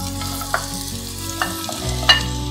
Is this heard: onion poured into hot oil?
yes